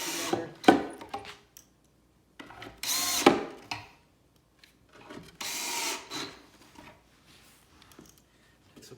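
A power drill drives pocket screws into wood while a farmhouse shoe bench with center shoe shelves is assembled: three close, loud bursts of whirring, each rising and cutting off, separated by quiet handling noises.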